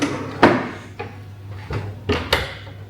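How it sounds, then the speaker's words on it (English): Several wooden clunks and knocks as a small slide-out dishwashing drawer in a camper van slides and bumps shut, close by over a low steady hum. "slide-out drawer here for my dishwashing."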